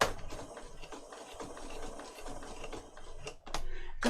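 Sewing machine stitching through a glued page of a Little Golden Book, a quiet, uneven mechanical whirr and chatter with a few sharper clicks near the end, no voices.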